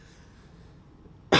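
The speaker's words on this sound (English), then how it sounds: "Still got a little bit of a cough left." A single sharp cough bursts out near the end of a quiet stretch, close and loud, from a man pausing mid-explanation during a live stream about foundry parts.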